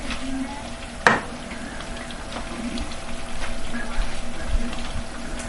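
Steady sizzling and bubbling from a pot of jollof rice, with a sharp scrape of a spoon near the start and soft stirring noises throughout.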